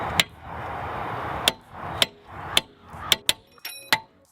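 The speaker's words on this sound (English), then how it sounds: "now we're gonna hit it with a hammer" Hammer striking a CV axle on a Chrysler 300 to drive it into place, sharp metallic blows landing about every half second, close and distinct over a quiet background.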